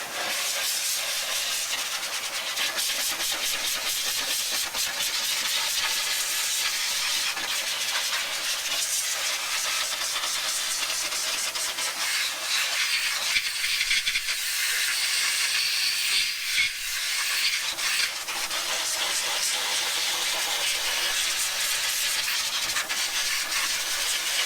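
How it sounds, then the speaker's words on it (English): Air blower drying a freshly washed car wheel: a steady, loud, hissing rush of air runs without a break for the whole stretch, close up, with no talking. "I'm going to get my blower out. We're going to blow dry the wheel"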